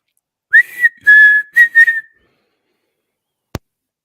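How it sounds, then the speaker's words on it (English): A person whistles a short tune of a few clear, sustained notes in a row, close and loud, followed by silence and then a single sharp click. "if you could summon the strength to whistle that one more time for me."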